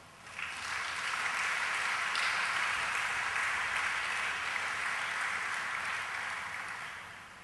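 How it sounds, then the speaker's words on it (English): A church congregation breaks into applause for fathers, a dense, even roar of clapping that swells quickly and holds steady at moderate loudness for several seconds, with no talking. "Let's give them an applause."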